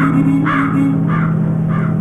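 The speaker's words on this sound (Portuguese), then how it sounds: "Ih, tem um corvo ali, ó." A crow caws repeatedly in Euro Truck Simulator 2 while a 1956 Ford F-100 pickup drives, with four evenly spaced harsh calls over a steady low engine drone.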